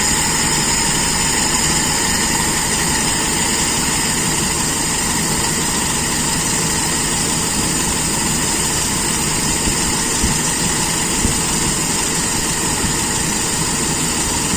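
Carbureted motorcycle engine idling steadily during air-mixture screw adjustment, a constant close hum with a high whine above it and no change in speed, no talk.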